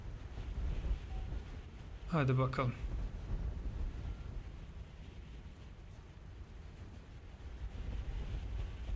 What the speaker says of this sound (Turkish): Şu rüzgar sesine bayılıyorum ya.